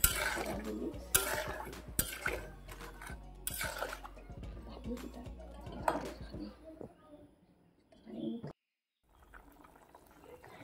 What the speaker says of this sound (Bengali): এখন দিয়ে দেবো গরম করে রাখা জলগুলো